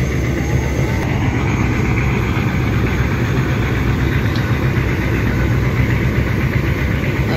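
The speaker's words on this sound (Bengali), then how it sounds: "রেস শুরু হয়ে গেছে। টিপু 14 লঞ্চ এবং কর্ণফুলী 12 দুটি লঞ্চের।" Passenger launches Tipu 14 and Karnafuli 12 race side by side on a river, their engines giving a loud, continuous low rumble with steady vibration and wind, and no voices.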